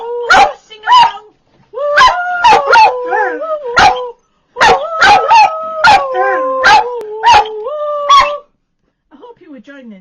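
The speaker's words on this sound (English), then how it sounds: "you'd pay a lot of money to get a singing dog" A dog howls along with singing, its long wavering howls mixed with yips over a loud, close voice in a cosy indoor setting.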